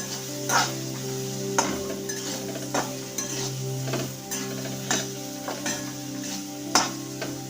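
Pumpkin being stirred and mixed with red chilli powder in a pan, with steady scraping strokes of a spoon recurring every second or so over a continuous low sizzle and background hum, close and fairly loud, no voices.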